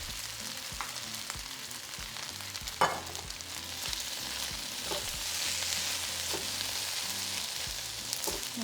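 Steak fried rice sizzles steadily in a hot pan as soy sauce, hoisin and sesame oil are stirred through, with close scraping and tossing, a sharp utensil knock near the start, and no talking.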